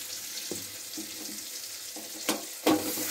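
Ground cumin and coriander stirred in a hot pan for a potato curry, a soft steady sizzle with a few scraping strokes from the spoon.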